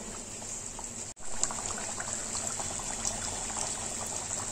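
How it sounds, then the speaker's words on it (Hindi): Bhature deep frying in hot oil, a steady bubbling hiss that jumps into brisk sizzling as dough drops into the pan, then keeps up a close, even crackle. "तेल गर्म हो गया है, भटूरे को तेल में डीप फ्राई करेंगे।"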